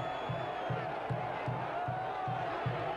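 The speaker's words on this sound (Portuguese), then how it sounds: "suficiente para a torcida soltar o grito guardado durante 5 rodadas" A stadium crowd of football fans at a Campeonato Baiano match between Itabuna and Bahia roars in celebration after a goal, with rhythmic pulsing chants repeating steadily under a dense wash of cheering.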